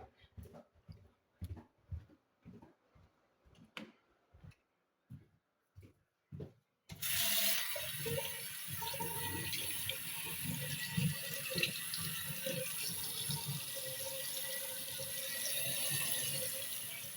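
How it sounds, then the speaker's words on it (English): Several faint knocks and rubbing sounds, then a bathroom tap opens and water runs steadily and loudly into a sink until the end. "go down the hall to the common bathroom and test that water"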